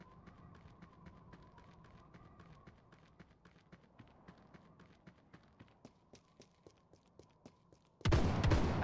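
Video game gunfire crackles in a rapid, regular series of light shots over a faint background hum, followed by a sudden loud burst of noise at the end.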